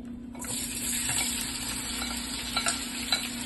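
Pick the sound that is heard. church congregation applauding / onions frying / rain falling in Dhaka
onions frying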